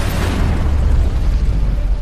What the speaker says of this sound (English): making her fall into a building and die in the explosion